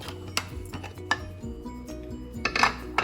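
Metallic clanks and clinks of a pressure cooker lid being opened after the pressure is released, several sharp knocks scattered among faint rattling, close by.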